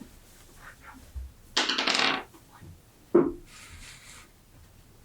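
Dice rolled for a tabletop roleplaying game: a loud rattling tumble lasting about half a second, a sharp clack a moment later, then a fainter clatter as they settle, with quiet room tone between.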